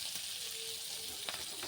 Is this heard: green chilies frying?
yes